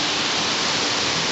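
Steady, dense rush of flowing water, loud and continuous without pauses, where two creeks, Ramsey Prong and Porter's Creek, meet over rocks nearby in Greenbrier.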